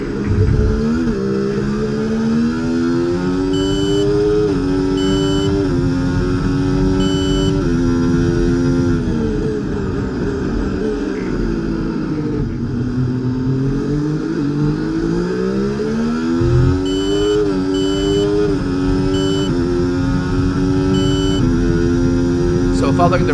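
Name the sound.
F1 race car engines on Montreal circuit, EA Sports F1 24 video game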